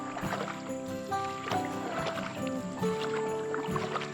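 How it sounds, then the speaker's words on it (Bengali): A tour boat glides across calm, clear water at Trang An, Vietnam, with a steady low hum and soft watery churning carrying at moderate loudness throughout, no voices. "বোটিং করছি আমরা"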